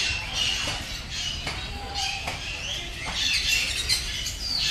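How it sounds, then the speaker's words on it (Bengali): Many birds call and squawk in a walk-in aviary at Alipore Zoo in Kolkata, a busy mix of chirps and harsh cries at moderate distance, with no one speaking. "উপরে অনেক পাখি বসে আছে।"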